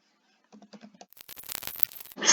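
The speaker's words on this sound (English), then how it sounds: "So just keep typing." Computer keyboard keys tapped during spreadsheet data entry: a sparse run of light clicks, then a fast, dense burst of close typing, ending on a louder final keystroke, with no talking.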